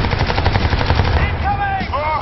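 Rapid automatic gunfire from the video game Crysis 2 rattles in a dense, fast burst, then gives way to whooshing, sweeping effects as the shooting ends.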